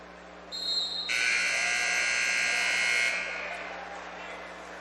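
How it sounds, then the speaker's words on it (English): A loud electronic buzzer blares for about two seconds to end the first period of a high school boys wrestling championship match, ringing over a hum of gym crowd noise. "Buzzer sounds, end of 1,"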